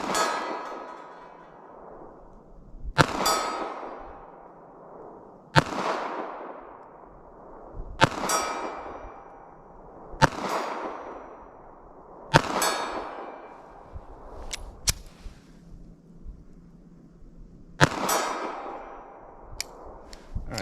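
.380 ACP pocket pistol shots fired from 40 yards, about eight sharp loud reports spaced a couple of seconds apart, each ringing out and decaying, with no talking.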